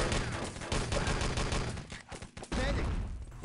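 Heavy crossfire from a team match of the video game Enemy Territory, played at a LAN tournament grand final: dense overlapping gunshots in a constant rattling barrage with a short lull near the end.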